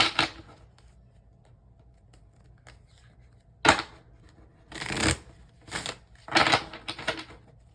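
A deck of tarot cards being shuffled up close, with several quick riffling bursts and soft card taps separated by short pauses in a quiet room.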